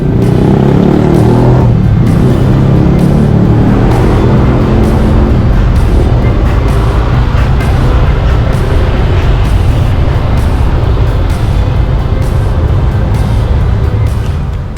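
Scooters and cars stream through Bali traffic, a loud, continuous engine rumble and whoosh that never lets up, with no voices.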